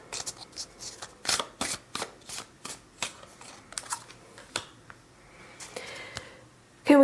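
A deck of tarot cards gets shuffled in a string of crisp riffles and slaps, some sharp and some softer, close by, with a voice briefly speaking at the end.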